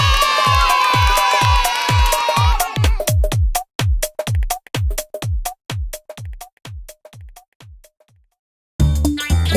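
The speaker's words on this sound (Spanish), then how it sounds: "Y ahora el aplauso más grande de todos" Children cheer and shout in a Spanish-language cartoon, a loud whooping crowd at first, then a series of bouncy, rhythmic cartoon sound effects that slow and stop before a final burst.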